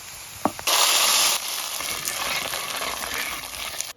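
Onion and garlic hit hot oil as a tempering for a raw mango rice porridge, bursting into a bright sizzle after a small clink, then settling into a steady, softer frying hiss with no talking.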